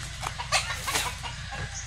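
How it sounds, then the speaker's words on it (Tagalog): Several chickens cluck in short bursts around a farmyard in Bicol, Philippines, a steady low background hum underneath, no talking. "Daming manok oh."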